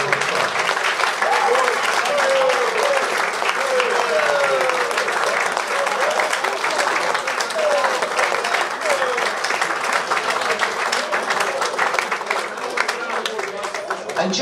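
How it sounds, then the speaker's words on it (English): A room full of guests at a football club awards night claps loudly and continuously for over fourteen seconds, a thick even wash of applause with no break. "Can we just a big round of applause for everybody in here and everybody involved."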